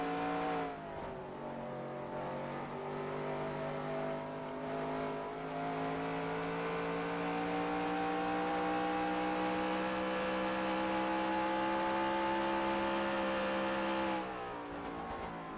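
A race car engine in a racing video game holds a steady high-revving drone on track through a corner, close and continuous, with its pitch climbing slightly before easing off near the end; no voices.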